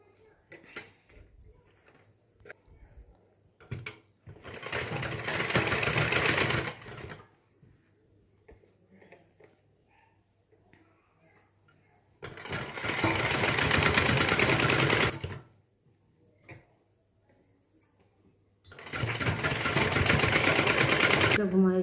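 A sewing machine stitches a blouse with a double seam in three loud, close bursts of rapid mechanical whirring, separated by quiet pauses with faint handling noises and some talking.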